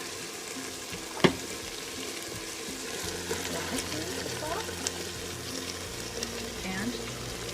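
Baby butter beans and pinto beans go into a pot of simmering chili, giving a soft wet plop followed by steady sizzling and bubbling close by, with light stirring clinks scattered through.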